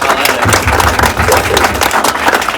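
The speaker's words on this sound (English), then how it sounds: "Let's give a round of applause for Pull Up" Dense, steady applause from a film festival audience, loud and continuous with no pauses, clapping after an award announcement.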